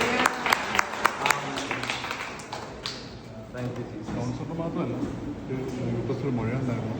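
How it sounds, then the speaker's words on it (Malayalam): A church congregation claps its hands in praise, a burst of sharp close claps at the start that thins into lingering scattered applause and murmur under a speaking voice. "ഒരു നല്ല കൈയടി കൊടുത്തേ കർത്താവിന്"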